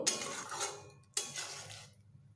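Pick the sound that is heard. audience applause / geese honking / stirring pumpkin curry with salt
stirring pumpkin curry with salt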